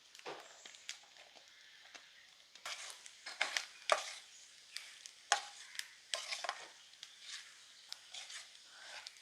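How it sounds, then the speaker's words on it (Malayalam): Mushrooms stirred into a roasted-coconut spiced masala in a pan, with a quiet background of scraping strokes and soft sizzling in irregular bursts, close by and without talk. "ഇനി നമ്മുടെ മഷ്റൂം ഇട്ട് കൊടുക്കാവേ."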